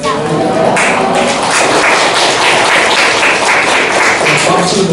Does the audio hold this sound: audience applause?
yes